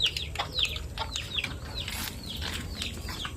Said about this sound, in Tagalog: Ito na yung mga manok natin, oh.